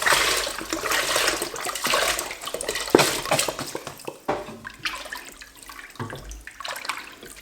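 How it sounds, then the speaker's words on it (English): Chicken broth rushes and splashes as it is poured into a cooking pot, a continuous loud gushing of liquid that tapers into uneven trickles and sloshes toward the end. "Adding another litre, so totals 2 litre of broth."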